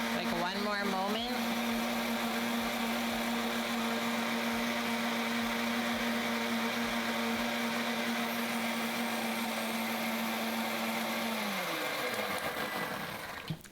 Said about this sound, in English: Blender was so loud, couldn't even hear it.